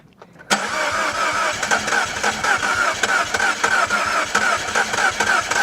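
A rebuilt Mini Cooper S engine cranks and catches about half a second in, then settles into a loud, slightly uneven idle with small rhythmic pulses that continue without any voices.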